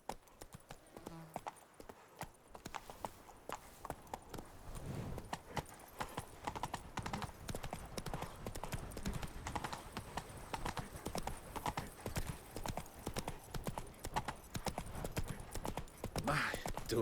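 Hooves clip-clop in a steady trotting rhythm as Geralt's horse Roach moves along in The Witcher 3 game, a faint repetitive beat with quiet ambient sound and a short spoken line near the start.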